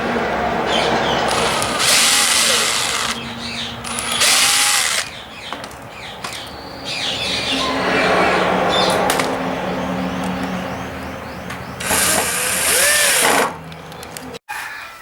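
A power drill fastens black steel handles onto a washing machine cabinet, running in several loud, close bursts of a few seconds each, separated by short pauses with handling noise.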